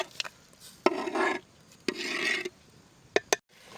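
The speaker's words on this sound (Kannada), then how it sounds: "ಮಸಾಲೆ ಹಾಕ್ಕೊಂಡು ಕಲಿಸ್ಕೊಳ್ತಾ ಇದ್ದೀನಿ" Ground masala being worked into mutton curry by hand, heard as wet rubbing and squelching strokes in short bursts with sharp taps in between, close and fairly loud.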